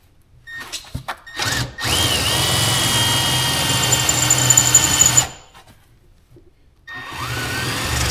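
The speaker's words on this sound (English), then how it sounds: "I got bolts in several holes so I can drill the hole out I forgot to drill." A drill bores out a bolt hole, running steadily for a few seconds with a brief start-up burst before it, then stopping and starting again, loud and close with no voices.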